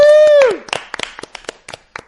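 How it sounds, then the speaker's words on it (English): A held sung or cheering vocal tone gives way to scattered, uneven hand claps from a small group, a dozen or so distinct close claps in a loose rhythm that fade quickly. "Let's give him a little round of applause"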